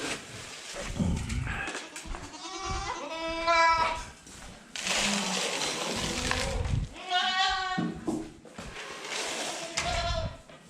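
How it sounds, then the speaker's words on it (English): Goat kids bleat loudly and repeatedly at morning feeding time on a farm, several overlapping wavering cries close by, with brief rustling gaps between calls. "So the first thing I'll do is feed my goat kids."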